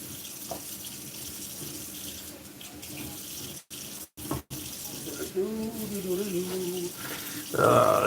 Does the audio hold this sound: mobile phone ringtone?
no